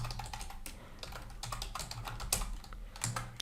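Rapid typing on a computer keyboard, a close run of crisp, irregular key clicks with no voices.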